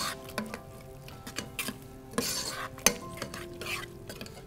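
Spoon stirring through a pot of cooked red beans for rice, soft repeated scraping and clinking against the pot with small sharp taps, fairly quiet and close, no talking.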